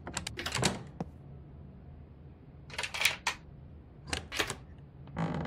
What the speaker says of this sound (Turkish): Burada bir kilit var,